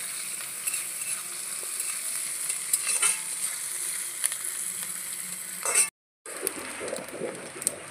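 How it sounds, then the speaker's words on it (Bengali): Grated coconut and slit green chillies fry in hot oil with a steady close sizzle, a spatula scraping and stirring the pan throughout, with a brief break near the end before the frying resumes. "নারকেলটা বেশ কিছু সময় লাল লাল করে ভেজে নেব।"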